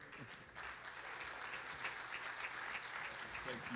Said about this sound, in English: would you give Brother Thompson another great hand clap